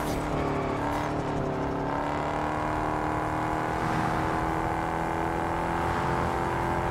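A car speeding in the racing game Test Drive Unlimited Solar Crown, a steady, loud engine drone with whirring tones holding at high speed throughout, no talk.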